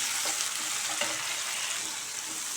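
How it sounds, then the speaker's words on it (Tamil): Tomatoes and onion sautéing in a pan for drumstick thokku, giving a steady, soft sizzle and crackle with faint stirring scrapes throughout, no talking. "தக்காளி வந்து தொக்குக்கு நல்லா வதக்கிறோம்"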